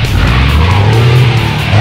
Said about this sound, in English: There's a car coming, stop, guys.